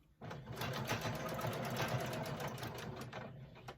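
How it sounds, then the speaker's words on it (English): A sewing machine reverse stitching at the start of quilt binding, a quiet, close, rapid steady whir of needle strokes running for a few seconds without speech. "I'm going to have to do a little reverse stitch at the beginning"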